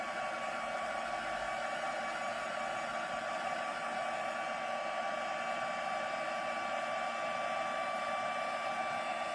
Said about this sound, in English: So I'm just heating that up with my heat tool.